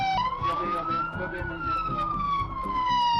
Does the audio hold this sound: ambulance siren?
yes